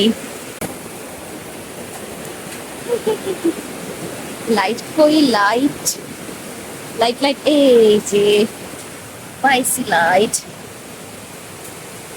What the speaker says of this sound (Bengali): বৃষ্টির শব্দ কি যে ভালো লাগতেছে